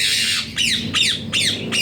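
A budgerigar squawks loudly nearby, giving four harsh, shrill calls in quick succession over a faint background hum.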